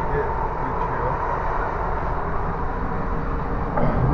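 Train running through wooded countryside around Liverpool and Manchester, heard from onboard as a steady rumbling drone with constant loudness and a slight swell near the end.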